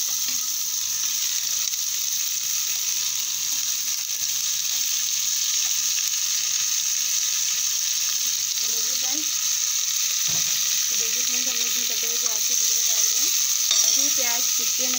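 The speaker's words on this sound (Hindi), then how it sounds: "अब हम इसमें हमारे कटे हुए प्याज के टुकड़े डाल देंगे।" Chopped onions hit a pan of oil with roasted cumin seeds, giving a steady, close sizzle throughout with occasional stirring and scraping sounds toward the end.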